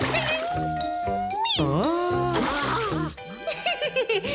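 A cartoon cat meows and yowls as it snatches a fish, its voice rising and falling in long pitched cries over background music, with bursts of splashy clatter near the end.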